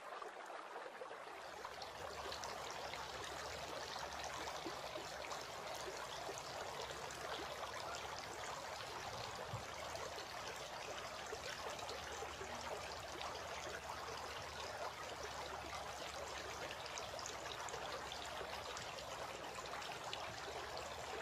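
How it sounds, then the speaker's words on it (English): Water splashes and trickles steadily while forearms are washed during ablution, a soft continuous running-water sound with no voices. "Then he took a handful of water and washed his right forearm, and again took another handful of water and washed his left forearm."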